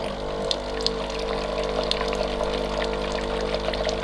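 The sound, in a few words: Bosch Tassimo My Way 2 coffee machine rinsing water through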